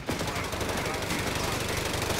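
Rapid bursts of .30 cal machine gun fire from the US forces in the video game Company of Heroes 3, a dense, continuous rattle with gunfire blending into battle noise across the whole stretch.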